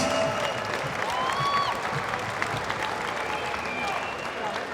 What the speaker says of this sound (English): how about a big round of applause for both these fighters going the full 3 rounds